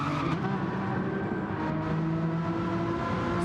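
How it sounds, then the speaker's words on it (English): A race car's tyres squeal under braking on track, a sustained tonal screech over steady engine roar, loud and continuous with no voices. "You might have heard on the stream just the tyre squealing under brakes."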